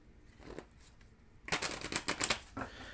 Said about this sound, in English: Oh, you can hear the cards being shuffled.